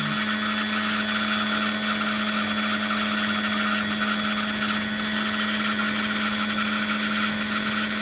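A lapidary saw slices through a piece of rough opal with a steady, continuous grinding whine and a sustained hum, holding an even loudness from start to finish with no talking.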